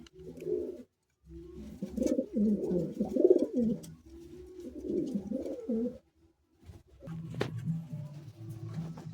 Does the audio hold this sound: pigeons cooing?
yes